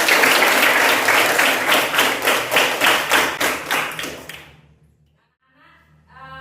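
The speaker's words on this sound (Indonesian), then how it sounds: "tepuk tangan" A group claps hands in a fast, steady rhythm, loud and close for about four seconds, then fades into quiet.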